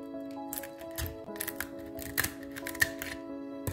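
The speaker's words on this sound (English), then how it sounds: "so now I'm going to attempt to cut down here with the middle with my scissors" Sharp, irregular snips and crunchy clicks of scissors cutting through a lobster shell, over a steady hum, with no voices.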